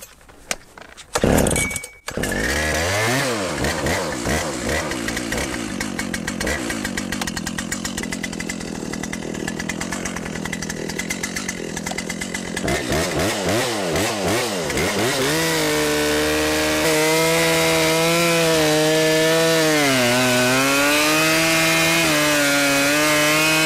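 A warmed-up chainsaw starts with a sharp burst, then revs and cuts into a thick tree trunk. Its loud whine rises and falls continuously at close range throughout, with no talk.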